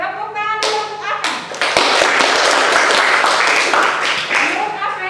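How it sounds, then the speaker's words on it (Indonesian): Applause breaks out in a classroom, many hands clapping loudly and densely for several seconds after a brief stretch of scattered taps, with a voice audible in the background. "Tepuk tangan dulu untuk Afen."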